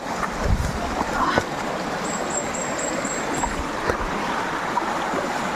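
A clear river stream flowing, a steady close wash of rushing water with faint scattered splashes, alone without talk.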